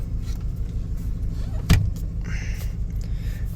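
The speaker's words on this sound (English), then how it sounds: "And it idles so beautifully." A truck engine idles steadily and low in the background, with a brief sharp knock or door-like clunk partway through and faint higher whirring afterward.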